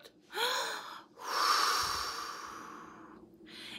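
Someone takes a deliberate deep breath during a children's song about handling anger: a short audible gasp, a pause, then a long, soft exhale that trails off, close and clear with no talking.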